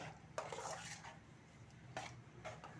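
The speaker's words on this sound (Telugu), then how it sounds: "ఇది బాగా కలుపుకోవాలి" Idli upma being mixed in a pan with a utensil, giving a few clattering scrapes and knocks against the metal at a steady close distance, with no talking.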